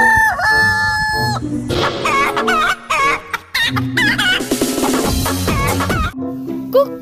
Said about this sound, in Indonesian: Kukruyu. Wow, ayam jago.